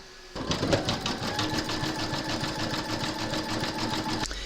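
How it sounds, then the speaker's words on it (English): A computerized embroidery machine runs steady satin stitching around the border of a crazy-patch notebook cover, its needle beating in a fast, even rhythm for about four seconds before it stops abruptly. "you're now going to stitch round number 4, and that's going to do the satin stitching around the border."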